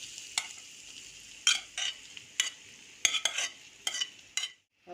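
Kidneys fry with garlic in a pan, giving a low background sizzle broken by repeated sharp scrapes and clatters of a spoon stirring, several in quick bursts before stopping.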